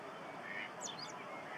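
Grey waterbirds with long black necks, geese or ducks, call in a few short honking notes at a distance from an island campsite, over a steady wash of wind.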